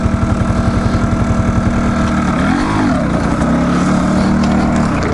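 Kawasaki KLR650 single-cylinder motorcycle engine idling close by with an even, rapid thumping beat, then briefly revving up and settling back.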